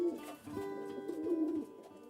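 Pigeons coo in soft, low repeated murmurs that run steadily through the whole stretch, close and moderately loud, with no talking.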